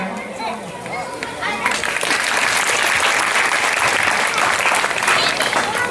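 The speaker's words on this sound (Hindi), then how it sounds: "आप लोग अपने लिए भी एक ताली जोरदार बजाएं" Audience at a village camp gathering breaking into loud applause, the clapping swelling after a quieter start into a dense, sustained roar of many hands, with some voices underneath.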